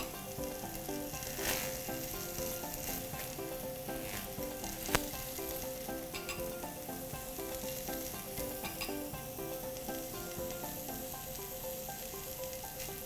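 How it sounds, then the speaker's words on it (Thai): Vegetarian barbecue skewers sizzle on a grill, a dense, steady crackle that continues throughout at a low level, with one sharp tap partway through. "เราจะนำบาร์บีคิวลงย่างเลยนะคะ"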